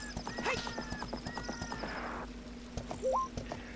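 In Zelda: Ocarina of Time, the horse Epona neighs while her hooves clip-clop in a steady rhythm, game sounds at moderate level with a short rising tone near the end.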